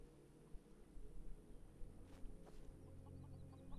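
Chickens cluck softly in Skyrim Special Edition in scattered bursts over a low steady background hum, the clucks growing busier partway through.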